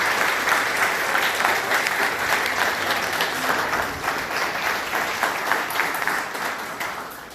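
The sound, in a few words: audience applause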